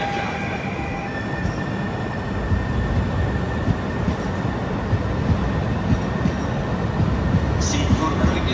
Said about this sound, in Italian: Attenzione, treno in arrivo al binario.